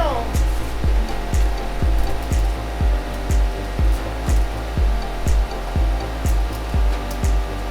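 Steady hissing from a vacuum leak on a Chevrolet 454 C10 engine, loud and continuous over a regular low thumping of the engine running at about two beats per second.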